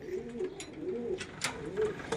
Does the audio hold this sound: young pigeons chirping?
yes